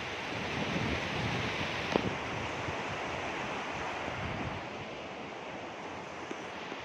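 A village stream runs steadily, making a constant broad rush of flowing water that carries on without a break, with a single faint knock partway through.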